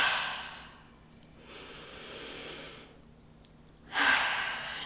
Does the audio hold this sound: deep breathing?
yes